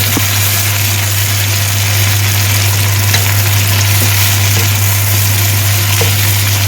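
Onions sautéing in a pan for mutton kudal (intestine) curry, a steady close sizzle and frying hiss running without pause under a constant low hum.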